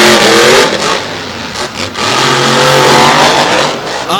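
Monster trucks, a 1979 Ford and a Ram, race on the infield of Motor Mile Speedway, engines roaring loud and close with revving surges and dips in pitch.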